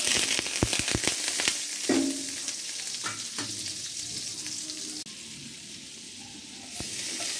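Butter sizzles and fries in a hot pan with a little oil, a steady crackling hiss with a few sharp clinks of a utensil early on, close and clear with no voices.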